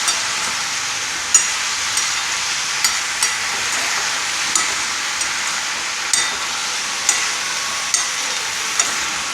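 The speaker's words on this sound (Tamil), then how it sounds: "அதுக்கு தான் நல்லா ஆயில் கோட் பண்ணுறாப்புல கிளறி விட்டுக்கணும்." Eggplant poriyal being stirred in oil in a pan makes a continuous loud sizzle, with a spatula tapping against the pan roughly every second.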